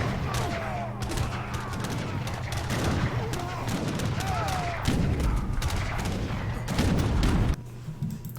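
Cannons and skirmishers trade fire in an Age of Empires battle, a dense, continuous clatter of shots and booms layered over game ambience, steady and loud throughout with heavier thumps near the end.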